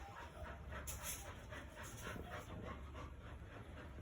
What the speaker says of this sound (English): That is my puppy breathing very hard because they're playing